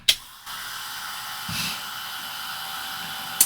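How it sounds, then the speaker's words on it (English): Heat gun running during denim crafting, a steady, fairly quiet airy whir of the fan and heater after a click on, holding level throughout. "And get my trusty heat gun here."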